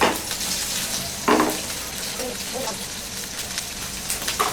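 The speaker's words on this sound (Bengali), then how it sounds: "একটু রসুনের কুচি দিব দিয়ে এটাকে হালকা একটু ভাজবো" Chopped onion and garlic fry lightly in a pan, a steady crackling sizzle with a few louder bursts of spatter and stirring, heard close up and without speech.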